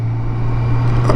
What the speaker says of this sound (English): they are just wickedly awesome tyres. There's that lovely whistle.